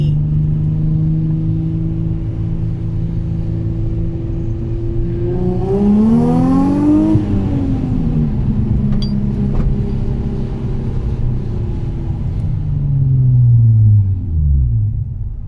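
A Nissan 350Z that had been going into limp mode drives a lap, its engine droning steadily and loud, rising in revs to a peak midway, then settling and dropping away near the end.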